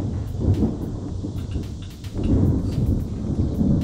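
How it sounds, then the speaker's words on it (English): Thunder rumbles low outside while rain patters steadily, a continuous stormy wash with rolling swells and no voices. "Yeah, there's some thunder and rain out there."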